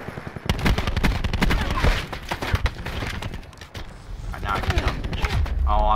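Rapid shotgun bursts and sprays in Call of Duty Black Ops 4 multiplayer, loud repeated blasts in quick clusters under a player's continuous talking.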